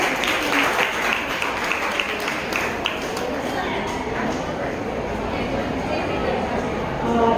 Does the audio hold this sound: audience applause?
yes